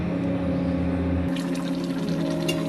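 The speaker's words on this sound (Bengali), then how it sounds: "সেই পাত্র ধোয়া জল দিয়ে দিচ্ছি" Rinse water from a cooking pot is poured into a simmering lentil dish, a steady liquid pour that starts partway through with a soft trickling wash over a constant low hum.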